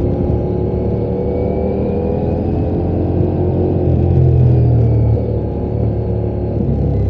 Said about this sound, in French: J'apprécie le bruit du moteur.